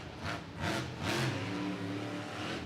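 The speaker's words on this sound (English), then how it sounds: "you can hear that Anderson throttle rhythm coming out of Ryan right now" The Bakugan Dragonoid monster truck revs in bursts during a freestyle run at a Monster Jam stadium event, with several rising throttle blips and a steady engine drone, heard from a distance at moderate volume.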